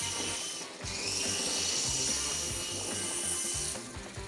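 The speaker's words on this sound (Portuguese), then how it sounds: "Ele tá quase decolando com a chave de boca." A remote-control helicopter's rotor spins up strongly enough to nearly lift a wrench, giving a steady close whirring drone with a rhythmic low pulsing beat that rises and holds.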